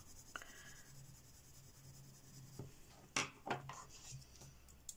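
Derwent Lightfast colored pencil scratching across cheap copy paper, quiet scattered strokes with a few louder scrapes near the end, close and faint with no talking.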